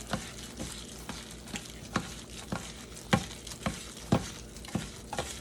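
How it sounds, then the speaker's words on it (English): Raw shrimp scampi ingredients with granulated garlic mixed by hand in a bowl, a series of soft wet squelching and slapping pushes at a loose, uneven rhythm, close and fairly quiet with no talking. "we're just gonna go in here and mix up everything with your hand"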